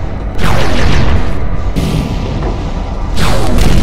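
A deep booming explosion with whooshing debris marks an item being destroyed in the VR mech game Vox Machinae, followed by a second blast, loud against a steady rumbling background.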